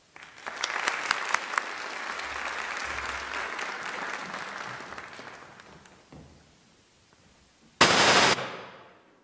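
An audience at a university lecture applauds to welcome Dr. Herzog: a dense, lively clapping that swells, then gradually thins and fades out, followed by a short, sharp burst of noise.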